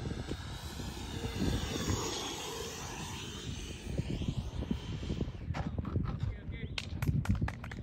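An FMS F-18 Super Hornet 80mm EDF model jet whooshes on landing approach, a faint, distant rushing whine that shifts and fades, heard over wind buffeting and someone talking.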